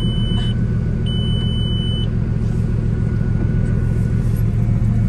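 A Bugatti Veyron sports car engine runs close by with a loud, deep, steady rumble that holds level throughout, without talk over it.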